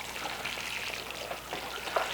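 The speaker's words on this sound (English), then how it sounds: "So I moved the watering can at a speed where it will soak through." Water pours from a watering can onto potted tomato seedlings in soil, a close, continuous splashing trickle with scattered droplet patters.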